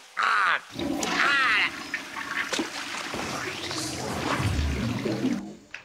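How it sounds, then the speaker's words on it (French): Shower water runs in the Sam & Max video game, a rushing, hissing spray that fills the scene, with a few short sound effects and a brief voice-like call near the start. "Avec le bruit de la douche et ses coups sur la porte?"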